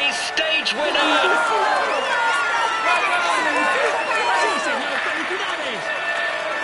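A dense crowd cheers and applauds a cycling stage winner on the podium in a Tour de France game, a continuous loud roar of whoops and chatter with sustained clapping underneath.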